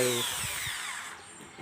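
An electric drill of roughly 450–600 watts runs on power from a solar home-power setup, whirring steadily and close by with a slight slowdown toward the end, while a voice talks briefly at the start.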